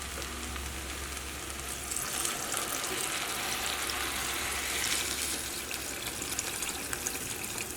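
Poori masala curry comes to a low boil on a high flame after water is added, giving a steady, close bubbling and sizzling hiss that holds level throughout, with no talk over it.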